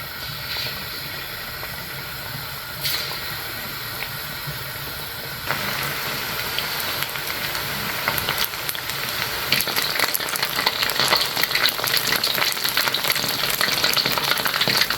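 Ingredients for kaldereta frying in hot oil in a wok-style pan, a bright continuous sizzle that swells louder midway as food hits the oil, with occasional stirring clatter.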